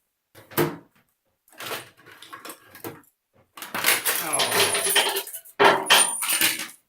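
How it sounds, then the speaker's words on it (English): Around 300 screws and nuts fall off the top of a cabinet and scatter across the floor in metallic clattering bursts, with someone speaking between and over the clatter. "That, my friends, was the sound of about 300 screws and nuts falling off the top of my cabinet and making a mess on my floor"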